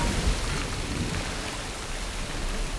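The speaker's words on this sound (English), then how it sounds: "More water falling down." Water pouring down steadily in Sea of Thieves, a constant broadband rushing and splashing like heavy rain, loud and unbroken throughout.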